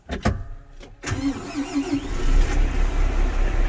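A Fendt 1050 tractor cranks with a few clicks and starter whirs, then its big diesel engine catches and settles into a steady, rumbling idle close by, with no voices.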